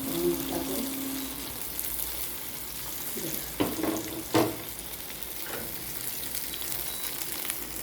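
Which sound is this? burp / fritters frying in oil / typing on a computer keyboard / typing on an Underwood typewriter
fritters frying in oil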